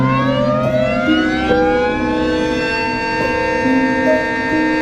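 A Darley Champion siren sounds as a loud, sustained harmonic wail that rises gradually in pitch across several seconds, heard close with no talking.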